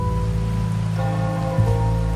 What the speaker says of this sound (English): The rain's back.